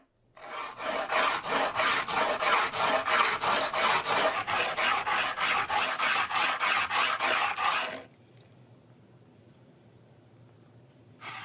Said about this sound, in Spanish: El lijado era el sonido que se oía desde lejos cuando uno se acercaba a un asentamiento neolítico